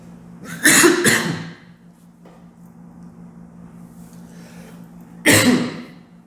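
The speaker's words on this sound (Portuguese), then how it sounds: "Eita, crise de tosse." A person has a coughing fit: a burst of harsh coughs up close, a quiet pause, a faint throat sound, then another loud cough, with no talking.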